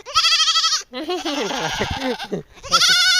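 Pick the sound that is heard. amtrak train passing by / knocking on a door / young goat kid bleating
young goat kid bleating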